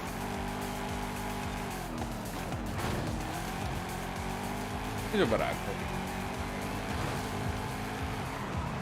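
Game car engine in Forza Horizon 5 droning steadily through a racing lap with shifting harmonic pitch, a brief tire squeal midway, and someone talking over the top.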